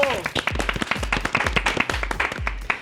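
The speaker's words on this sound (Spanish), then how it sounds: "vamos a recibirlo con un fuerte aplauso" Studio audience clapping at a TV talk show, quick rhythmic claps with thumping beats underneath, loud and close, with a voice over the start.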